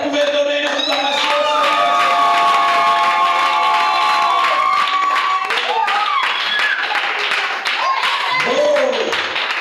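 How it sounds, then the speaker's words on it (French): A church congregation cheers and claps, loud and continuous, with whoops, shouts and high voices rising over dense applause for the whole stretch, alongside some talking. "Est-ce que vous pouvez donner une acclamation?"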